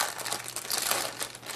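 Protective plastic bag around a red phone being handled, a continuous close, crisp crinkling and rustling for a second and a half, with no speech.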